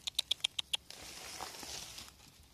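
A rat caught in a trap out in the field rattles it in six quick, sharp, evenly spaced taps. Softer rustling and scraping follow, with no voices.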